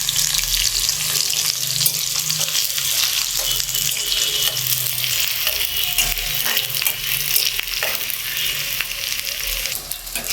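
Chopped onion and garlic frying in oil over a raised flame, a continuous loud close sizzle with crackling and faint stirring, steady throughout with no talking.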